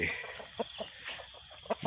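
Chickens cluck in a mountain farmyard, a few short, soft calls scattered over low outdoor background noise.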